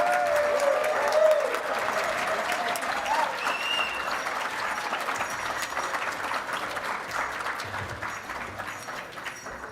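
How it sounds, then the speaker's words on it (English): An audience at an Indigenous graduation celebration applauds its Spring 2022 graduates: a sustained, even wash of crowd clapping, moderately loud, with faint voices and a brief whistle-like tone near the start. "Let's have another round of applause for the Indigenous graduates of Spring 2022."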